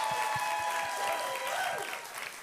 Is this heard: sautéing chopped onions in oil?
no